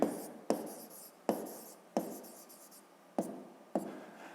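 Pen writing by hand on paper during a fifth-grade maths exercise about angles, heard up close as six short scratchy strokes, each starting with a sharp attack and trailing off, separated by brief pauses.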